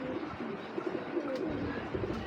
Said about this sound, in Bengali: এই একটা মেহেন্দি গলার কবুতর